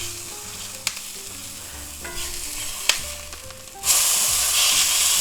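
Onions fry and caramelize in a pan for a patty melt, a steady close sizzle with occasional spatula taps, swelling into a louder, brighter hiss near the end.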